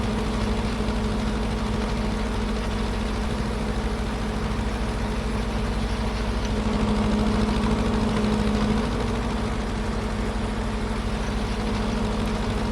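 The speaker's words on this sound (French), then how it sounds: "J'adore ce tracteur." An old-style tractor engine in Farming Simulator 25 runs at a steady idle. A continuous low hum with a droning tone holds at an even loudness throughout, with no voices.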